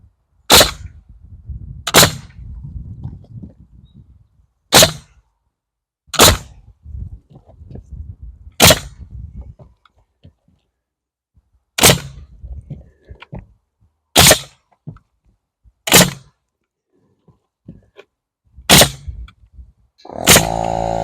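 Pneumatic nailer firing nails into a shed wall frame on a hot, breezy day: about ten sharp, loud, close bangs at uneven intervals, with quieter handling clatter and rustle between shots.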